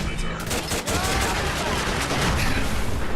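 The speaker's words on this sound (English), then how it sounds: "How dare you shoot Piper?" Heavy, continuous gunfire in the video game Fallout 4, a dense rattling fusillade of rapid shots with no gaps, loud and close throughout.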